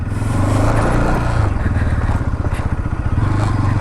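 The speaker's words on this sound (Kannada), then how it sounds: "ಹಾಗೆ ಈ ಗಾಡಿಯ ಎಕ್ಸಾಸ್ಟ್ ಸೌಂಡು ಕೇಳಿಸ್ತೀನಿ, ಬನ್ನಿ." A Bajaj Pulsar NS200 motorcycle revs up close, its exhaust giving a loud, throbbing, pulsing burble that rises and falls continuously, with no talk over it.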